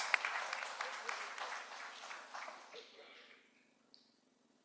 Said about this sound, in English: Keep clapping for these,